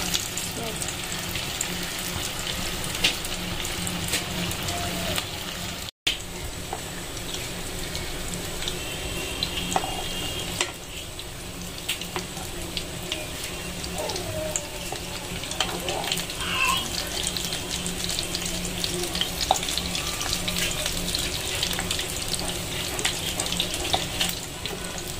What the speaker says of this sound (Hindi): अभी एक एक करके इनको फ्राई कर लेंगे।